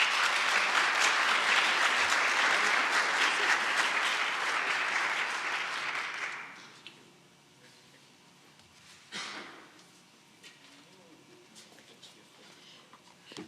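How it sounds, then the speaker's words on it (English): A church congregation gives a warm welcoming round of applause, dense and steady for about six seconds before tapering off to quiet room noise with a few scattered late claps. "let's offer a warm round of applause of welcome"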